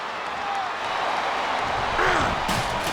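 A big arena crowd in the wrestling video game SmackDown vs Raw 2008 roars steadily, with a swell of cheering near the end during a six-man Money in the Bank ladder match.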